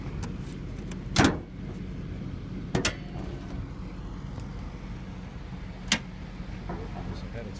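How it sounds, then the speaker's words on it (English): A Toyota car's hood being popped open: a few sharp, separate clicks and clunks from the latch and hood, spaced out against a quiet, low background hum. "I'm going to pop the hood"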